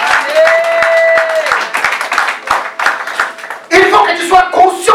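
A church congregation breaks into applause during a sermon, with sharp regular claps sounding under a voice that keeps speaking, then swelling into louder, fuller clapping near the end.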